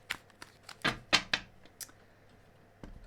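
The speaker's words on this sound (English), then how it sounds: "So we're just going to give it a quick shuffle and then take the first 3 cards." A Rider-Waite tarot deck gets a quick shuffle: several crisp riffling bursts and taps cluster in the middle, fairly close and moderately loud, then a faint final tap, with no talk.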